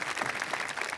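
Graduation ceremony audience applauding at a high school in Concord, Massachusetts, a brief dense burst of steady clapping from a crowd.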